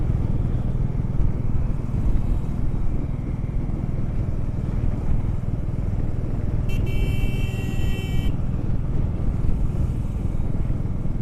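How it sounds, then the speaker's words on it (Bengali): A Honda Highness CB350 motorcycle on a foggy winter road near the Ganges, its engine a steady loud rumble throughout, with a brief high electronic beep partway through. "কত সামনে চলে আসছে বাইকটা।"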